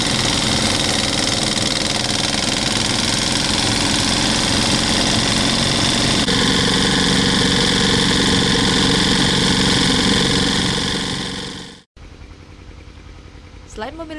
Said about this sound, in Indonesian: Padi-padi yang sudah dipanen langsung digiling dengan mesin perontok padi.